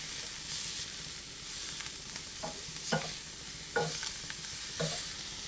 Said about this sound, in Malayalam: ചെറുതായിട്ടൊന്ന് ഇളക്കി വാട്ടിയെടുക്കാം.